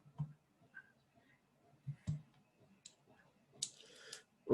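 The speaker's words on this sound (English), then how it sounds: "Let me fix my pencil a little bit." A pencil being adjusted gives a few sharp, quiet clicks spaced irregularly, close up in a quiet room, followed by a brief scratchy rustle.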